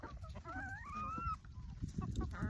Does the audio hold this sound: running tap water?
no